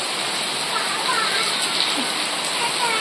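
Heavy rain pours steadily outdoors as a dense, continuous hiss and patter with no breaks, loud and close throughout.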